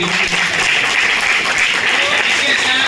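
Loud, continuous audience applause at a Swachhata Hi Seva 2024 cleanliness event at NSTI Howrah, a dense steady patter of many hands filling the whole stretch.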